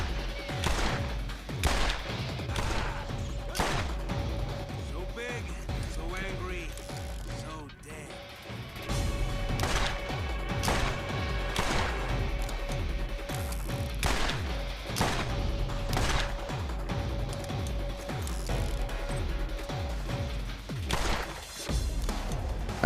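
Pistol shots from a weapon in Borderlands ring out in quick bursts over game music and mechanical clatter, loud and close, with a brief lull partway before the firing resumes.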